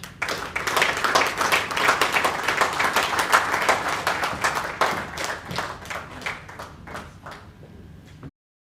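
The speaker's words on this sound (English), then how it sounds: "Please, round of applause as Dr. Sinwamadi comes to the front." Audience applause at a lecture, a steady wash of many people clapping that swells early, holds for several seconds and then gradually thins into scattered claps before ending.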